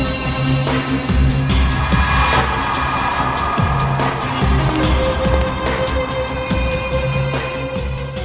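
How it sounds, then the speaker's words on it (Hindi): Mobile phone ringing in a basement, a loud, steady electronic ringtone with repeating tonal phrases that continues for the whole stretch, close and alone with no talk. "विनीत, ये देखो श्रेया का मोबाइल फोन"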